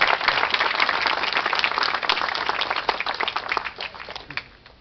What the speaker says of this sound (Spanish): Fuerte los aplausos, hermanos.